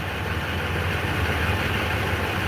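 A 2003 Chevrolet Silverado pickup engine idling nearby, a steady even rumble with broadband hiss and no change in pace.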